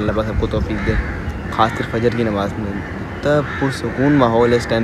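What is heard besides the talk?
crows cawing at dawn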